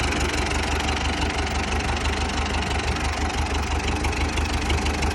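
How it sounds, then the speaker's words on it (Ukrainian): Cold T-40 tractor engine fitted with a Jubana fuel pump running steadily, a loud, close diesel idle with a rough knocking chug throughout. "Ось він запускається. Так, так працює."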